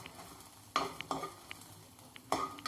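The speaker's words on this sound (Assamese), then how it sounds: "সেইখিনি মই ফ্ৰাই কৰি লওঁ।" Spices frying in a hot wok on residual heat for an Assamese chili pickle, a quiet steady sizzle broken by a few distinct scraping strokes of a spatula stirring against the metal.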